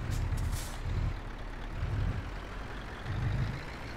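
Truck backing up in Euro Truck Simulator 2, a low diesel engine drone swelling in four regular pulses with brief air-brake hiss at the start, heard alone and fairly close.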